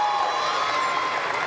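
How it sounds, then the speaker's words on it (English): Crowd applause in a Paris 2024 Paralympic para powerlifting arena during a men's or women's final: a steady, dense wash of clapping and crowd noise, fairly loud and continuous throughout, with no clear talk. "Apprehensive applause"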